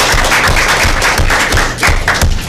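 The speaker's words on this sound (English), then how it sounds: "Let's give them a round of applause." Applause at a county board of education meeting for recognised schools, close and loud rhythmic clapping from a small group with distinct individual claps throughout.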